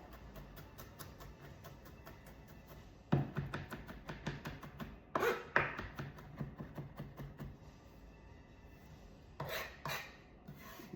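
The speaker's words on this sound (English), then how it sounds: "With our garlic cloves, I'm just going to give them a good smash and a rough chop." Garlic cloves smashed and roughly chopped with a knife on a board, a quiet rapid series of crisp chopping taps with a few louder smashing thumps, close up and alone.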